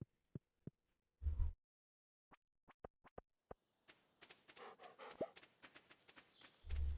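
A dog panting in the video game Stardew Valley, quick rhythmic breathy huffs following a string of sharp clicks and thumps, fairly close and moderately loud.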